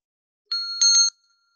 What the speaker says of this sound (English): we have a little bell